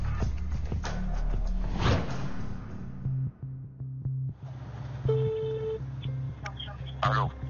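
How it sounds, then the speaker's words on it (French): A telephone is dialed from a restaurant, beeping keypad tones and line sounds following a stretch of talk, with a steady electronic tone near the end. "je vais re-essayer d'appeler Helmut et j'espère l'avoir au téléphone."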